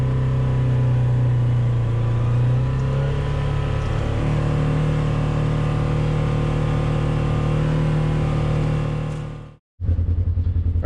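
A 2024 Polaris RZR XP 1000 fitted with an Assassins dual muffler cruises in high gear with the windows down, its engine holding a loud, steady drone that shifts pitch briefly before a sudden cut and return near the end.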